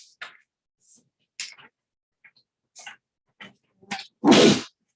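One loud, close sneeze bursts out near the end in a quiet meeting room, preceded by faint scattered small sounds and brief voice fragments.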